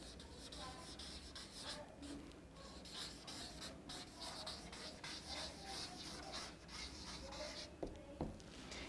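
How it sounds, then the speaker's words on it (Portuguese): Chalk or marker writing on a classroom board during a history lesson: faint scratchy strokes and rubbing in short bursts under a steady background hum, with a voice speaking at times. "Vou escrever aqui embaixo."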